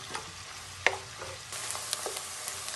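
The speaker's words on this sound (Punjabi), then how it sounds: "ਹੁਣ ਆਪਾਂ ਇਹਦੇ ਵਿੱਚ ਲਸਣ ਦਾ ਪੇਸਟ ਪਾ ਦੇਵਾਂਗੇ ਤੇ ਹੁਣ ਆਪਾਂ ਇਹਨੂੰ 3-4 ਮਿੰਟ ਪਕਾਵਾਂਗੇ" Garlic paste fries in hot ghee with a steady sizzle and occasional clinks of a spoon stirring the pan, close and fairly quiet.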